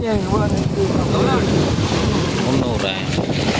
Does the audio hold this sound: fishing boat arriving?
yes